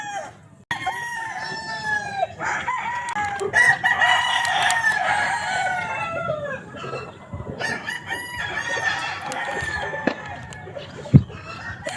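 Kelso gamefowl rooster, an elevator Kelso, crowing and clucking at a game farm, with several loud drawn-out crows over roughly twelve seconds and clucks and other farm birds in between.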